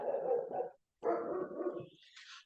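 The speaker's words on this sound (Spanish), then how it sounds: "Hoy justo se pusieron los perros" Dogs bark outside during a class, two loud bursts of rough barking separated by a brief pause, followed by a higher whine or yelp at the end; no talking.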